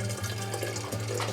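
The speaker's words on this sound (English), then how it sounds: "This bottle, it doesn't look like much, but it offers a really good shower." Water pours steadily from a portable shower bottle at an off-grid mountain cabin, a continuous close splashing stream with no break.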